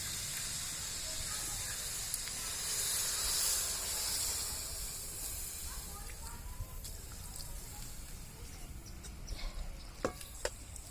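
Steady hiss and sizzle of water hitting a hot pan of cauliflower, building briefly then settling into a continuous crackle with a few clicks near the end.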